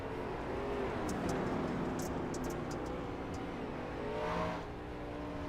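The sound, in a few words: dirt track race car driving the top side at Eldora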